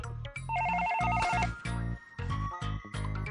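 A phone's ringtone plays loudly, a repeating electronic melody with rhythmic pulses, close by and without talk.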